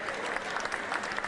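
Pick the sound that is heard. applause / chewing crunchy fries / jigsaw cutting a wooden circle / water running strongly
applause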